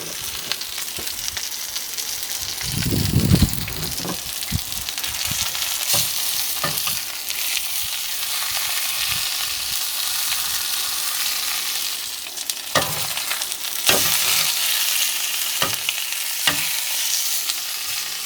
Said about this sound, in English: Sizzling away quite merrily.